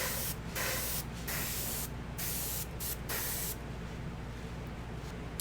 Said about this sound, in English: I'm going to use my Badger airbrush.